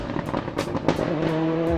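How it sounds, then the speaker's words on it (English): Car engine fitted with an anti-lag system, revving with sharp, irregular pops and bangs over a steady engine drone, close by and fairly loud for under two seconds, with no talking. "Anti-lag systems can often be recognized by the constant popping or backfiring sounds accompanied by a few flames."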